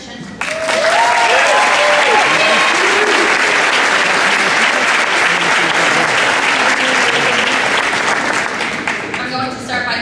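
Loud, steady applause from an audience at a fall sports awards ceremony, sustained for about ten seconds and fading slightly at the end, with a few voices mixed into the crowd noise.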